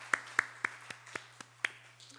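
Church congregation clapping in thanks: slow, evenly spaced claps, about eight in a row, crisp and distinct against a low steady hum, close and with no talking.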